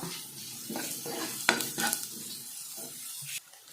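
Onions and green chillies sizzle and sauté in a hot pan, with a steady frying hiss broken by stirring scrapes and occasional clinks of a spoon.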